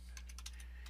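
Someone types admin credentials on a computer keyboard, a quick run of about six soft, close key clicks over a low steady hum.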